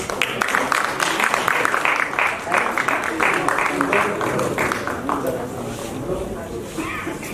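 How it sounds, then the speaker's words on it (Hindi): An audience at a theater festival prize distribution claps in a rapid, dense round of applause that holds strong then gradually thins and fades toward the end. "तालियां बजा दीजिए एक बार"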